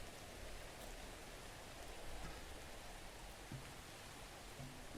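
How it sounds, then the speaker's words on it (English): Steady, moderate rain falls in the video game Songs of Syx, a continuous hiss of drops with no talking. "Oh, listen to this nice rain we're having."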